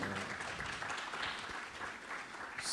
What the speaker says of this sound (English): So you can clap harder.